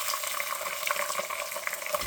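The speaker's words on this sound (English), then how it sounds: "So we're waiting for the tomatoes to kind of pan fry a little bit." Chopped tomatoes pan frying in a pot for chicken biryani, a soft steady sizzle and hiss with faint crackles, fairly quiet and continuous.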